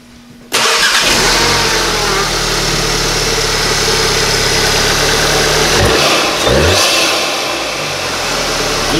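A VW Golf R fitted with a K&N intake cranks and fires up after a brief quiet moment, then settles into a loud, steady idle close by with a slight rev partway through.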